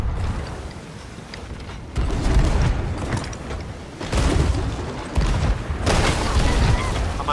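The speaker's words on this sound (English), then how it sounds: "Cannons, cannons, cannons." Cannon fire during a Sea of Thieves naval battle, heavy booming volleys arriving in several bursts under steady game noise, with no voices in the moment.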